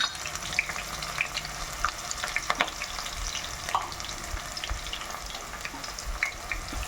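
Onions, green chillies, a bay leaf and marathi moggu frying in hot oil, a close steady crackling sizzle with occasional light stirring taps, no voices.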